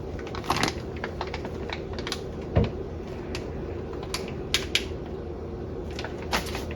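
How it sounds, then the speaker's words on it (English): Knife chopping crab meat very finely on a cutting board, a series of irregular light taps and clicks with one heavier knock, close by over a steady low background hum. "We're gonna chop this up really, really fine."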